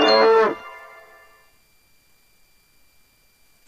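A cartoon-style cow from a kids' number counting game gives one short, loud moo that fades into a soft ringing tail, followed by a brief click.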